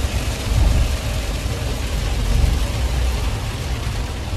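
A car drives in the rain at about 80 km/h, rain drumming on the body over a loud, steady low road rumble, with no talk.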